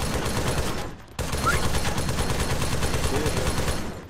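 Rapid bursts of gunfire in the video game Arma 3 ring out continuously, sounding like a dense automatic fusillade with a brief pause near the one-second mark.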